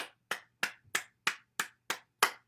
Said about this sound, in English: Clap our hands to stimulate the heart.